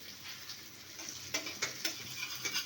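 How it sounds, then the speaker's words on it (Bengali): Small fish sizzle in a hot pan with a soft, continuous hiss, broken by several sharp scraping stirs and clinks of a spatula near the end. "এখানে কিছু মাছ আমি ভাজি রাখবো"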